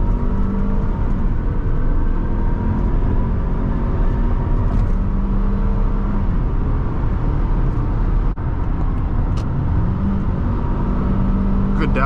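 A 2010 Toyota Camry LE 2.5 kicks down a gear and accelerates, its engine drone rising steadily over road and tyre noise from inside the cabin, with one brief thump partway through.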